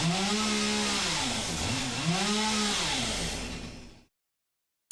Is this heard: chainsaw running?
yes